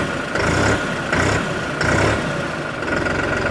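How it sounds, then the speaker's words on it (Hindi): A New Holland 3630 tractor engine idles steadily and close at around 700 to 800 rpm, a low diesel chug with a regular pulsing beat and no talk. "लगभग 700 से 800 आरपीएम पर ट्रैक्टर आइडल रहता है।"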